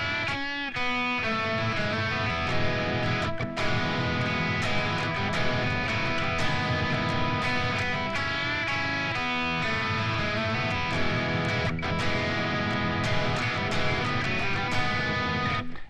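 A distorted electric guitar plays a steady, sustained riff from a rock song, thick and saturated, ringing continuously with a few brief breaks between phrases.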